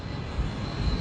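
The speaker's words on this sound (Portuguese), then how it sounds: "A tripulação monitora a velocidade ao acelerarem pela pista." An airliner's engines roar at takeoff power as it accelerates down the runway, a dense low rumble heard briefly and steadily from inside.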